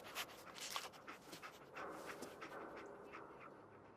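Dogmeat, the canine companion in Fallout 4, pants in a quick run of soft, breathy huffs, faint and close, fading slightly toward the end with no talk.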